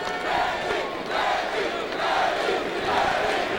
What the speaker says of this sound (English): Well, you hear the crowd chanting. It's the Proviso East bunch.